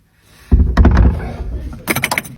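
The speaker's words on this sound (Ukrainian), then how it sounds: "Медвіжатник не може відкрити двері." A door fitted with a combination lock being tried: a loud thump and rattle as it is pushed and pulled, a scraping, clattering stretch, then a burst of sharp metallic clicks and knocks near the end, close by with no talk.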